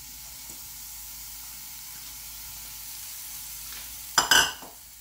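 Cauliflower and cabbage go into a hot pan, a faint steady hiss rising to a short loud sizzling burst near the end before settling back down.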